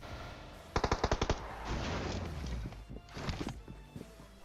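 A rapid burst of automatic gunfire in PUBG rattles off in quick succession, followed by rumbling noise and a few scattered shots, game-like and punchy.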